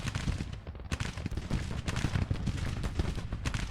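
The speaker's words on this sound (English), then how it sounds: "Firing in there with their Mississippi rifles, long range on those guys." Mississippi rifles firing at long range in a Civil War strategy game battle, a dense crackling volley of many overlapping shots rolling on continuously at moderate loudness.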